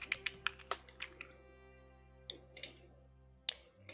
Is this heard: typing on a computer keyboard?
yes